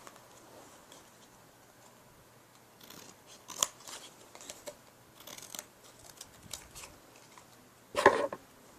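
Scissors cut through paper for a homemade Barbie doll notebook, with a few quiet, close snips scattered among light rustling and a sharper cluster of cuts near the end.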